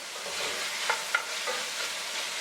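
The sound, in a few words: quick stir of salted pork and fat in a pot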